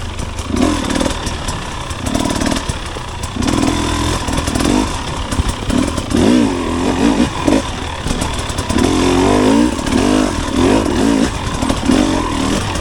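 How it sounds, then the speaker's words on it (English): A 2024 KTM 300XC-W TBI two-stroke dirt bike is ridden, its engine buzzing and revving in repeated surges, loud and close throughout, with no talk. "Stoked to try this new bike out."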